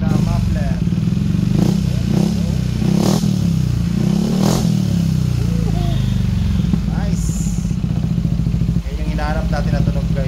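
A Yamaha XMAX 300 scooter with a custom Kalkal muffler idles loudly and close, its deep exhaust rumbling steadily throughout with a few sharp revs, while people talk over it.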